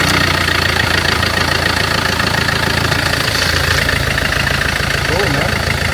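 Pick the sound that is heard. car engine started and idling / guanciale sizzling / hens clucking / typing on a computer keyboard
car engine started and idling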